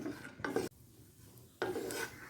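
Cashews in ghee are stirred in a pan, giving two bursts of dry, raspy scraping separated by a short quiet gap, close and moderately loud, with no voices.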